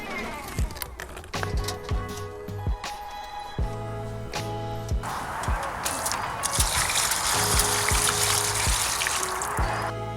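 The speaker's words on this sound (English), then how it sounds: "But now it's full of water, we need to empty it" Water tipped and poured out of the drum of a cheap Wessex wet and dry vacuum, a rushing splash building over scattered clunks and rattles of the drum being handled, fairly close.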